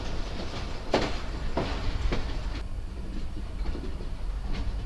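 A passenger train on a rural Sindh line rolls along the rails near Rohri, a steady broad rumble with a few sharp clatters of wheels over rail joints, continuous and fairly close throughout.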